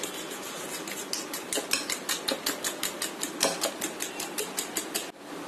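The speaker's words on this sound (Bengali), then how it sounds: "এখন একটা কাঁটা চামচ দিয়ে ভালো করে মিশিয়ে নিতে হবে" A fork beats eggs, flour and chopped coriander leaves in a bowl, giving a fast, even run of sharp metal clicks against the bowl for several seconds before stopping.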